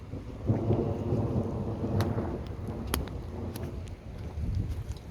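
A thunderstorm brings steady rain with a low, rolling rumble of thunder and a few sharper cracks, continuing throughout without any voices.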